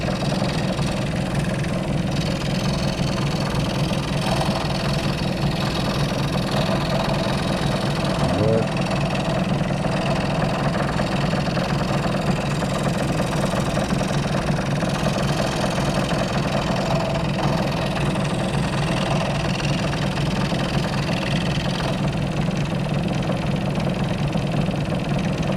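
An old Craft jigsaw, used for 66 years, runs continuously with a steady, buzzing, rattling motor drone and a rapid reciprocating chatter, close and fairly loud throughout.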